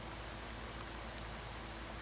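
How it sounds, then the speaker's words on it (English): Steady, even rainfall in a racing or driving video game during a sunny rainstorm at night, a constant broadband hiss of drops with no talk over it. "It's one of those sun is out rainstorms."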